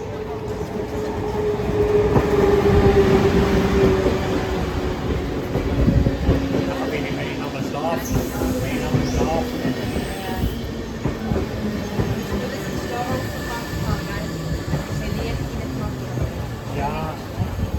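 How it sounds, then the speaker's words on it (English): An Intercity train pulls into Spiez station in Switzerland, with a loud, close rumble and squealing brakes that fade into rolling clatter as it slows, and voices speaking nearby. "Einfahrt des Intercity 6 nach Thun, Bern"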